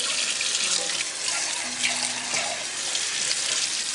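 Canned chickpeas are rinsed under a running kitchen tap, a steady close hiss of flowing water with faint shifting as the beans are moved about, no talk.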